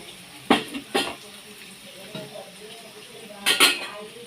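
Chicken pieces go into oily fried masala in a pot for a Telugu chicken curry, with a few clanking spoon-and-pan knocks and a brief rush of sizzle over a low frying hiss.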